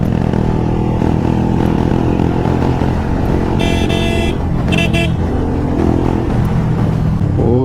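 A modified motorcycle exhaust revs loud and close in a continuous rumbling roar, with a couple of short horn toots sounding midway through.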